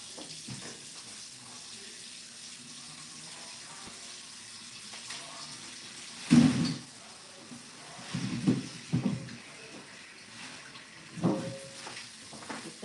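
Water runs from a kitchen sink tap while potatoes are washed, a soft steady stream with several louder splashes and gushes as the potatoes are handled under the flow.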